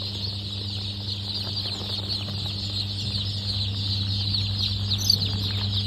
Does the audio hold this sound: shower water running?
no